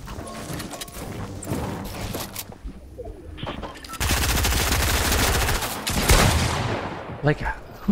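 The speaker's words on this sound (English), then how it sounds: "who's shooting me?" Gunfire in the Fortnite Battle Royale video game: scattered shots early on, then a loud sustained burst of rapid automatic fire, with other game sounds mixed in.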